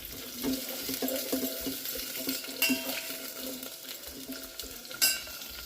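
Spices, onion, green chilli and carrot frying in a pan for bagara rice, a steady close sizzle and crackle with a few louder spatters and stirring clinks, no voices.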